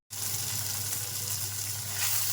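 Onion, crushed garlic, ginger, green chilli and tomato frying together in a pan, a steady close hiss of sizzling oil that holds even throughout with no voices.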